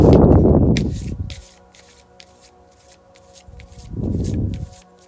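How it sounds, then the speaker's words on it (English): Someone shuffles an oracle card deck in two soft, close bursts of riffling and rubbing cards, separated by a quieter pause with faint handling noise. "So we're gonna start with an oracle deck that I'm gonna shuffle."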